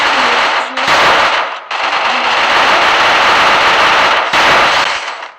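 Loud, sustained automatic gunfire in a shooting video game, firing in long continuous bursts separated by a few brief pauses, close and dominant throughout.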